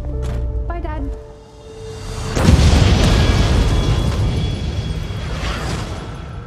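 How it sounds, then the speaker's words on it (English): A powerful explosion bursts in with a deep boom, then a long rumbling roar slowly fades, following a few brief tonal sounds at the start. "An explosion rocked the city today."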